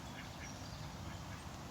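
Ducks on a pond in the rain, with faint quacks blended into a dense, steady hiss of falling rain close by.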